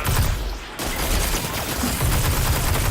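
Sustained gunfire in Destiny 2 gameplay, a dense continuous stream of loud shots with a brief break near the start, close and dominant with no talk over it.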